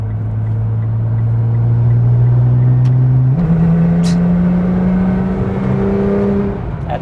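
A modified Nissan GTR kicks down and accelerates hard in automatic, its engine a loud, close, rising drone that steps up sharply with a gear change midway and keeps climbing.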